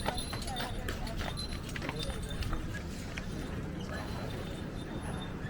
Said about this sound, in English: And a little horse ride, of course.